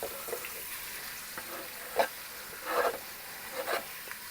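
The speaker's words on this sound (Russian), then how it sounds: "морковочку и лучок сразу же в маслице. Протушиваем, обжариваем" Carrots and onions fry in oil for a cheese solyanka soup, a soft, quiet sizzle punctuated by a few light stirring scrapes and clinks, no voices.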